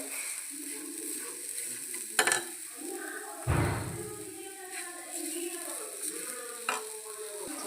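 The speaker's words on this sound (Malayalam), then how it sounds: "ഇനി പഞ്ചസാര അലിയുന്ന വരെ നന്നായിട്ട് ഇളക്കി കൊടുക്കാം കേട്ടോ." A spoon stirs sugar in a pan until it dissolves, giving a steady soft scraping and sizzling texture with a couple of louder knocks against the pan, close and without talk.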